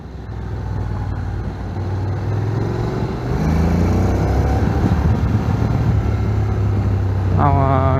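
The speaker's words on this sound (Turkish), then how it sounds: "ya şu Japon motorlarındaki zuurt mevzusunu çok seviyorum" 2025 Honda NC750X DCT motorcycle engine while riding: a steady low engine drone with wind rush and rising revs, loud and continuous, with a rider talking over it at times.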